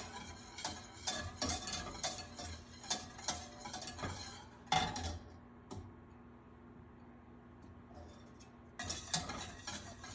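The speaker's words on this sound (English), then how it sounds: "You're gonna wanna whisk this in and make sure it gets nice and melted." Pads of butter being whisked into a lemon cake batter in a bowl, quick rhythmic clinks and scrapes of the whisk, close and moderately loud, pausing briefly before resuming.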